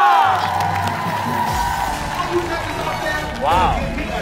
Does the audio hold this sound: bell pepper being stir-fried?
no